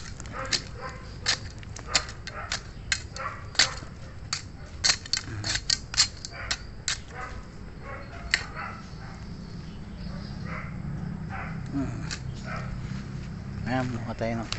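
A dog plays in a home garden, giving brief sharp sounds in an irregular series over a low background, while a person talks intermittently.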